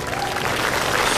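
Audience clapping at a casual singing session, a dense continuous wash of applause heard close and loud for about a second.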